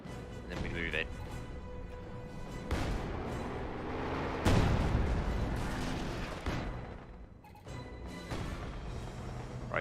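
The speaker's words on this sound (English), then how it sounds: "Launch light artillery barrage!" A light artillery barrage in the World War II strategy game Company of Heroes 2, with repeated heavy booming impacts and crashes rolling over the battlefield while players talk.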